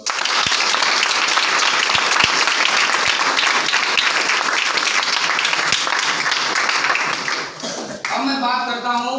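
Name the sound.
audience applauding loudly at business seminar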